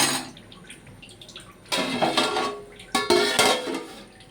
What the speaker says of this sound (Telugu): కొంచెం ధనియా పౌడర్ వేసి మనం బాగా కలిపి మూత పెట్టి ఈ వాటర్ని బాగా మరగనివ్వాలి